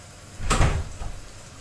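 A door in a home is pushed shut with a single soft thud and brief rattle, followed by a fading settle, at close range with no talk.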